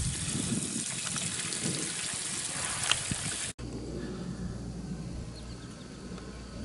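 Water pump pushing water on a solar-powered setup in late afternoon, a steady rushing gush that shifts to a softer, lower flow partway through, continuous and close with no talk.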